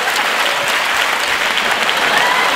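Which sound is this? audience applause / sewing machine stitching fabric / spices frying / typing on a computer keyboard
audience applause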